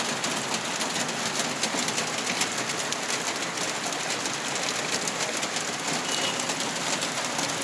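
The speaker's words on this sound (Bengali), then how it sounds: "এই যে বৃষ্টি পড়তেছে" Steady rain falls over a road while vehicles keep running through the downpour, a dense, even hiss filling the whole stretch with no break and no voices.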